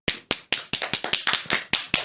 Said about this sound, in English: we forgot to do the sync clap at the start